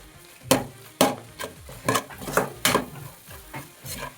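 Onion and egg masala frying in a pan while being stirred, with a spoon or spatula scraping and tapping the pan in irregular strokes over a soft, steady sizzle, close by and with no talk.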